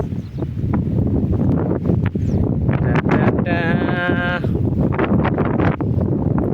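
Strong wind from the year's first storm blowing across the microphone in a steady, heavy rumble, with brief gusting bursts, a short tonal sound partway through and a person talking over it.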